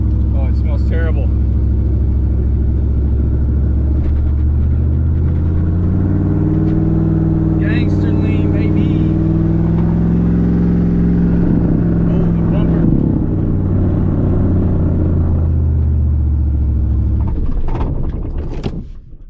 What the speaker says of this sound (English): To sit on the limiter doing those donuts, but it just wouldn't rev up.